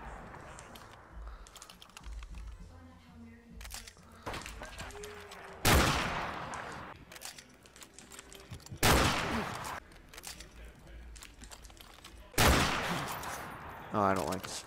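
Dragunov sniper rifle shots in Modern Warfare Remastered, three or four loud, sharp single cracks spaced a few seconds apart over quieter game ambience and keyboard clicks, with someone talking between them.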